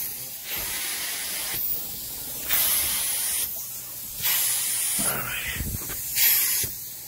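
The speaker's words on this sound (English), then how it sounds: "I'm gonna leave some spray and water, yep." Several bursts of spraying water from a spray bottle onto moldy Sunbrella fabric pillows, each lasting about a second, separated by short pauses, close and fairly loud.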